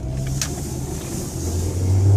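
A car with a loud aftermarket exhaust driving on a road in Kentucky, giving a low, rough engine rumble that swells toward the end with faint pops, heard from close by with no talking.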